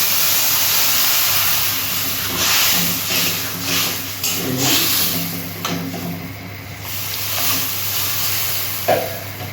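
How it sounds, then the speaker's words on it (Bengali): Water poured into a pan of mangoes simmering for a sour mango fish curry brings an uneven hiss and sizzle, with faint stirring clinks, heard close up without speech. "এবার আমি জল দিয়ে দিলাম সেদ্ধ করার জন্য।"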